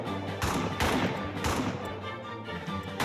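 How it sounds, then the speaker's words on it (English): Gunfire in a trench warfare video game, a rapid run of loud overlapping shots and bursts in quick succession, close and dense, with no talk over it. "we are like shooting at each other from point blank range"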